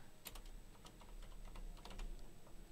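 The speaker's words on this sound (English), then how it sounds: "I'm typing at an angle here," Quiet typing on a computer keyboard from an angled position, with irregular soft key clicks over a steady low hum and no talking.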